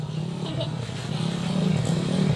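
A motorcycle engine runs steadily with a low rumble that builds slightly in intensity, heard close and continuous beneath faint road and wind noise on a ride toward a mountain area.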